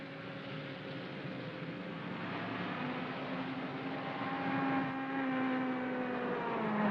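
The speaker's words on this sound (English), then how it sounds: "Hey, get that car out of the way!" A car engine revs and drones steadily in a 1958 atomic sci-fi thriller film, a continuous loud motor hum with rising pitch toward the end and no speech.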